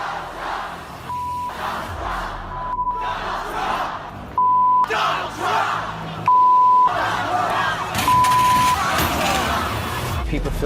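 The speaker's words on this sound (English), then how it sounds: "People filling the streets in America's cities, protesting President-elect Donald Trump" A large crowd of protesters fills a city street against Donald Trump's election, a loud, continuous roar of voices and chanting with a few short steady beeps cutting through at intervals.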